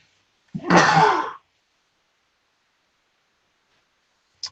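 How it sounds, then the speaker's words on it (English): A single sneeze bursts out close up during a live stream, loud and breathy for under a second, followed by silence and a faint brief click near the end. "I'm about to sneeze right now"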